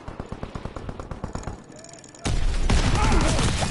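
Incendiary shotgun shells firing in Call of Duty WWII, a rapid series of about a dozen sharp blasts followed by a dense, sustained roar of gunfire and fire noise.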